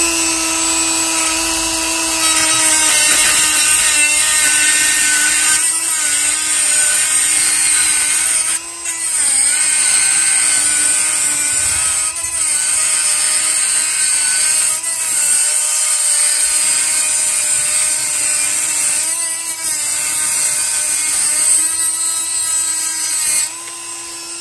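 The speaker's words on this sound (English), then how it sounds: "just using a simple little cutting tool on my Dremel here that works really well." A high-pitched Dremel rotary tool with a cutting wheel whines continuously while cutting, loud and close, with brief dips and stutters as the blade bites into material.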